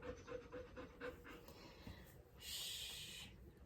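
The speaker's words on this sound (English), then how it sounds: "Sorry, he's panting so much" A tired dog pants rapidly and close by, a steady rhythmic run of quick breaths with a louder huffing burst near the end.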